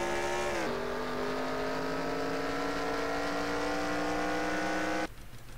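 Race cars in an NRLOA series race at Indianapolis roar past, a loud sustained engine drone holding steady before cutting to a rougher, quieter tone near the end.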